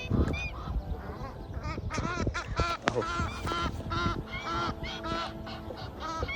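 A flock of geese honks loudly and repeatedly, overlapping calls nearby on the river at Aswan, heard from a kayak, with a brief spoken word among them.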